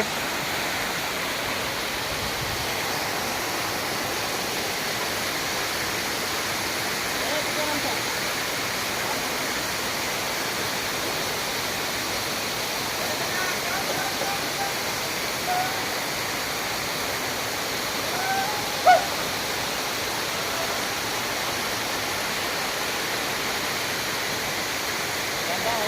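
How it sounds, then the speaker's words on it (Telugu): Baabijhari waterfall at Kerameri roars in a constant broad wash of rushing water, even and unbroken from start to finish. "బాబీగేరి వాటర్ ఫాల్స్"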